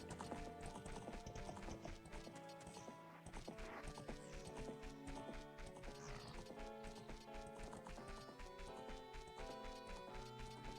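Horse hooves clip-clop in Ocarina of Time, a rhythmic hoofbeat pattern over layered game music, with a brief neigh-like cue and no speech.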